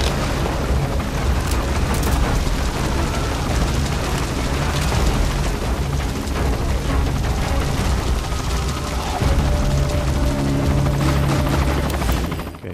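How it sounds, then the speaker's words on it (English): An enemy helicopter in Metal Gear Solid V: The Phantom Pain, its loud continuous rotor roar blended with booming explosions and gunfire throughout, swelling a little toward the end. "That is not our helicopter, that's actually an enemy"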